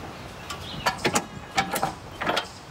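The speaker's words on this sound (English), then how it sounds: "This one just turns and locks, and now it's secured in place" Metal hitch pin sliding through a vehicle's hitch receiver and turning to lock, giving several sharp clanks and ratcheting clicks in a quick irregular series, close and alone.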